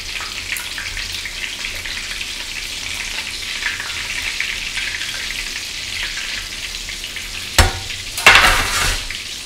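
Beef croquettes frying in hot oil give a steady close sizzle throughout, with a couple of brief louder clatters near the end as one is turned over.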